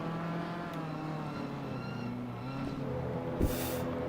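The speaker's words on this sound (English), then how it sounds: "You can hear his car accelerating, it just doesn't drive anymore." A McLaren 720S Evo race car in Assetto Corsa Competizione at Zandvoort, accelerating with a steady, droning engine note that rises slowly in pitch, heard at moderate loudness with a brief sharp noise near the end.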